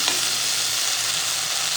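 Steady, loud sizzling of okra frying in a hot pan, with faint stirring scrapes and no voices.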